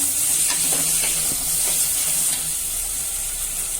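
Tomatoes sautéing in a hot pan as they are stirred, a steady loud sizzle with a broad hiss running throughout and light scraping strokes near the start.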